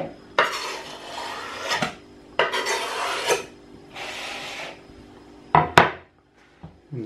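Knife chopping an onion on a wooden board while making salmon patties, rasping strokes in short bursts, three steady runs of cutting and then a few sharp knocks, close and clear with no talking.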